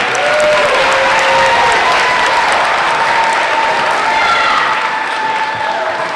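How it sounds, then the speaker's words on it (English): Sustained applause fills a hall at a 25th anniversary celebration for the organizing committee, steady dense clapping from a large audience with a few faint voices mixed in, holding at full strength throughout. "I think they deserve a little bit louder applause."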